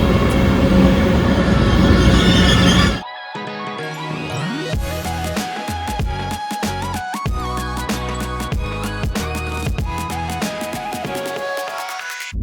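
A train pulls into a station on a rail trip through Belgium, Germany and Switzerland, a loud whooshing rush followed by rumbling wheels, squealing brakes and metallic clacks as it slows, close by.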